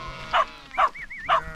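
Sheepdog barking while herding sheep outdoors, three sharp barks spaced about half a second apart, fairly close, with a faint whistle-like tone between them.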